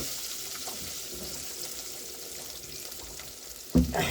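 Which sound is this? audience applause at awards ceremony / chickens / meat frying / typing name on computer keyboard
meat frying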